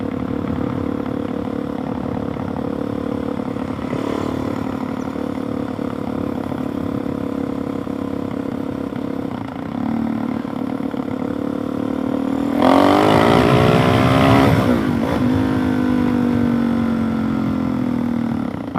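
A car engine pulls through second and third gear on a road, a steady mid-pitched drone with a louder surge of revving near the end that then settles, close inside the cabin.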